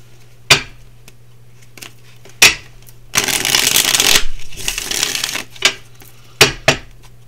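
Tarot cards being shuffled by hand: sharp individual card slaps, then a dense riffling burst of about two seconds, followed by several more crisp taps, close and clear with no talk.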